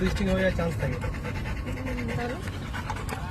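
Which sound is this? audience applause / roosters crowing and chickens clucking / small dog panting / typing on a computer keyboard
small dog panting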